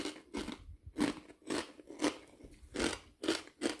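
Close, crisp crunching in repeated bursts of someone biting and chewing pork crackling swirls, about a bite every half second with brief quiet gaps.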